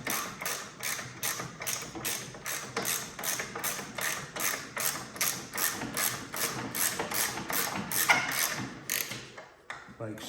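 Rapid steady clicking of a ratchet wrench loosening a 1/2-inch nut at the back of a Troy-Bilt Storm Tracker 2890 snowblower track, close and continuous for nearly the whole span before stopping.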